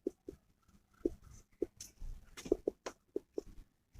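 A teacher writes out a physics solution, chalk or pen tapping and scratching in short irregular strokes, close and fairly quiet.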